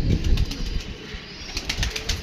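Pigeons flutter overhead, their wings flapping in quick, soft bursts amid light outdoor background noise, fairly faint throughout.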